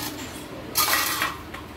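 A Rottweiler puppy licking its food plate clean, producing a short series of close, wet scraping and clinking sounds as its tongue and the plate shift against the floor.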